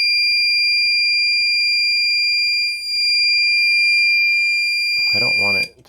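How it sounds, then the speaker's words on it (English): A MIOYOOW ultrasonic ranging alarm gives a steady, loud electronic tone that holds for about five seconds, with one brief dip partway through, before a voice starts speaking and the tone cuts out. "I don't want it to beep every time."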